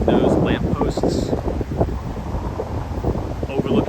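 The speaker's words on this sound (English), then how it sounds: "It's going to be a very windy live stream, just a forewarning." Wind buffeting a microphone outdoors in Midtown Manhattan, New York City, near Central Park, a constant rumbling gusty roar with faint street sounds and a few bright chirps.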